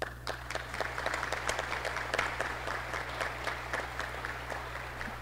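An audience in a hall applauds newly appointed academic authorities at a ceremony for new state universities, with steady, sustained clapping at moderate volume over a low electrical hum.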